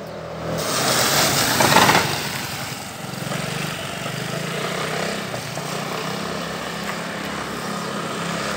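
Scooter-style motorcycle ridden through rain in city traffic, a steady engine drone blended with broad wet hiss, fairly loud and continuous with a slight swell early on, no voices.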